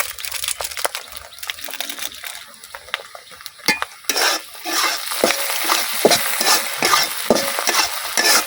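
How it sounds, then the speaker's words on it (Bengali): Maggi masala is stirred into chow mein frying in a pan, with scraping, clinking stir strokes over a soft sizzle that grows busier in the second half, no talking. "তো মশলাটা আমি খুব ভালোভাবে মিশিয়ে দিচ্ছি।"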